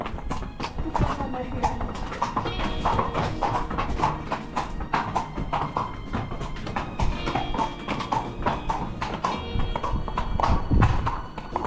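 Horse hooves clip-clopping on a ride near Granada, Spain, a steady rhythmic clatter of hoofbeats close by with people talking over it.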